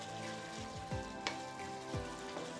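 Chicken 65 gravy frying in a pan while being stirred, a continuous sizzle with a few scraping spoon sweeps against the pan, close and moderately loud, no talking.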